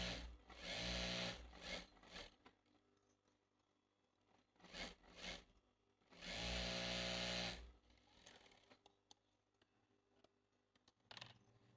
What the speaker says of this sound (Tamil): நம்ம இந்த ப்ளவுஸ் கிளாத்தோட லைனிங் கிளாத்து வச்சு இந்த பாட்டம் இந்த கீழ் பாகத்தை வந்து பாட்டம் சைடு வந்து ஒரு தையல் போட்டுக்கலாம்